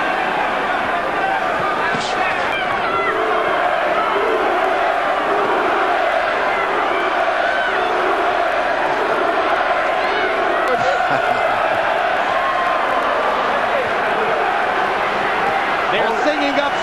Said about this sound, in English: The chant in the background, Lewis, Lewis, Lewis. From the English fans, mostly in the second and third decks.